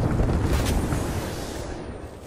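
A thermite grenade burns in Apex Legends, giving a close, steady roaring hiss with a low rumble underneath, heard alone without talk.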